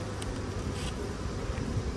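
Buckfast honeybees buzz at an open beehive frame, a dense, steady hum of many wings close to the microphone, with no talk over it.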